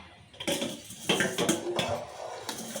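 Salt is tossed through bitter gourd pieces in a bowl, giving a string of clinks, scrapes and knocks from a utensil against the bowl in uneven bursts, close up and clear.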